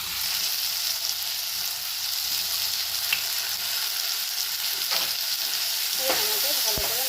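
Ground spice paste with a little onion frying in a kadai, a bright steady sizzle close up with a few scraping touches of a spoon.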